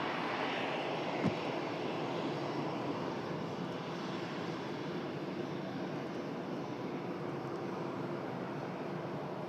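An airliner taxiing past the runway visitor park at Manchester Airport, a steady broadband engine roar that holds loud and close throughout with a faint background hum and no voices.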